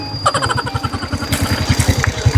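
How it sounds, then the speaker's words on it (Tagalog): Motorcycle engine idling and revving nearby, a loud rapid pulsing chug with rhythmic firing beats throughout. "May motor nga."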